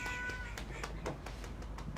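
A cat lets out a short meow right at the start, followed by a series of light, evenly spaced taps and soft knocks against a low background hum.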